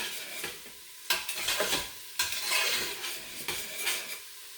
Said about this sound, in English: we're going to mix them around, cook them down